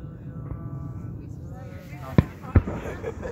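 Two sharp firework bangs go off at a Fourth of July camp, close together near the end, over a low crowd murmur with people talking.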